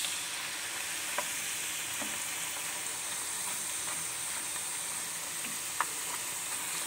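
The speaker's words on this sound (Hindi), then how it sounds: "ये बहुत पतली हैं तो ये बहुत जल्दी फ्राई हो जाती हैं।" Thin banana chips fry in hot oil with a constant dense sizzle, broken by a few faint clinks and stirs as they are turned.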